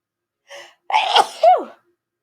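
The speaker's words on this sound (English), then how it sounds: "I have to sneeze." A single loud human sneeze, a short intake followed by a sharp explosive burst, close and clear in a quiet room.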